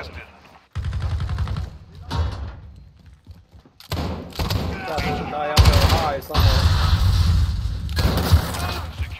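Loud bursts of automatic gunfire and heavy thuds come from Call of Duty: Modern Warfare in a hardcore Headquarters match. The bursts are separated by short quiet gaps, and a player's voice can be heard among them.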